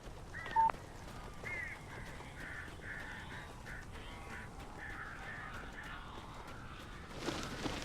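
Crows caw in the Alan Wake video game, a string of harsh, fairly quiet calls repeating steadily over low ambient game background noise.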